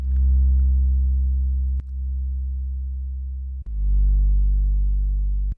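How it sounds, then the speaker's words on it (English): Deep synth sub bass from an MS-20-style Memphis gadget plugin, three sustained low notes with clicky attacks, each swelling and slowly decaying, clean and alone. "I made a MIDI file, the sub bass, outputted it"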